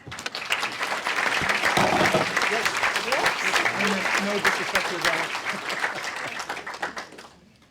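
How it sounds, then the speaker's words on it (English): A crowd at a Pinellas County Republican candidate forum claps in a steady, sustained round of applause, with a voice speaking briefly over it near the start before the clapping tapers off at the end. "let's give one more round of applause to all of our candidates"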